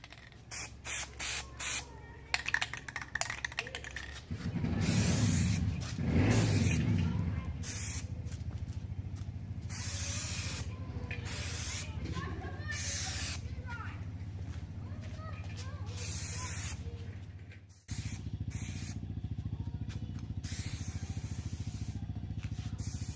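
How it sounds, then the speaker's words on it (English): Spray can hissing as Plasti Dip goes onto a car tail light, with short bursts at first, then a long steady close-up spray, a brief break and more spraying, with quiet talk faintly underneath. "first start painting the outline of the taillight and then move in"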